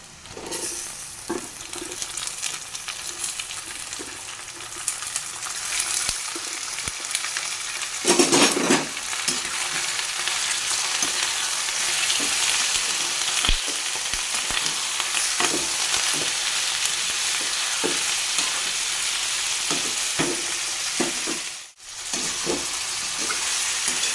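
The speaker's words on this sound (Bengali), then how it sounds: "এখন আমি এখানে মাংসটা দিয়ে আবার একটু কষাবো।" Meat stir-fried in a pan with onions already browned to red: a loud, continuous sizzle with the scrape and clatter of stirring, and a brief break near the end before the frying resumes.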